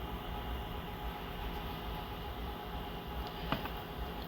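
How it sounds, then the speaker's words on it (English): A train, the Hiawatha Flyer, rolls past over a grade crossing with a steady, muffled rumble and faint rail clatter, holding at a constant low level, with a sharp click near the end. "the train rolled over the grade crossing"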